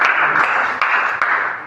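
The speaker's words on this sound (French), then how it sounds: "Applaudissons pour le Seigneur." A church congregation applauds for the Lord during a healing thanksgiving, a dense steady wash of hand claps heard fairly close, with a few sharper claps standing out at regular beats.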